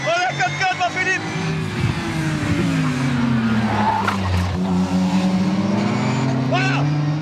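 A BMW M4 GT4 race car brakes hard on track, its engine note dropping through downshifts with tire scrub while running side by side with another machine; someone talks excitedly over it.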